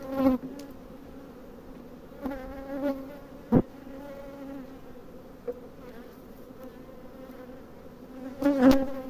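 A wild swarm of honeybees being housed in a hive, giving a continuous close buzzing hum with a few louder bursts and sharp taps from handling.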